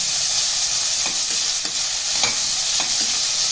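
Sliced onions and ginger garlic paste frying in a pan for tomato rice, a constant bright sizzle close by, broken by repeated scraping strokes of a spoon stirring, with no talking.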